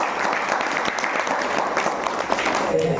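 Church congregation clapping together in a steady, dense burst of applause that fills the space throughout, loud and continuous with faint voices mixed in.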